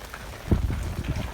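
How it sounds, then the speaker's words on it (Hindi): Light rain falling on a village, a soft steady patter with a few heavier drops striking nearby surfaces, heard alone without voices. "अभी भी हल्की हल्की बारिश हो रही है।"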